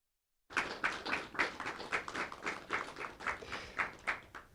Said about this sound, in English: Can we have one more round of applause for these amazing filmmakers